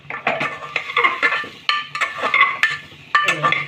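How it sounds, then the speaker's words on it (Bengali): A lid is lifted off a pot of small potatoes in spice masala, and a spoon scrapes and clinks against the metal in repeated bursts, close and fairly loud with no voice. "আবারও একবার ঢাকা খুলে নেড়ে দেবো"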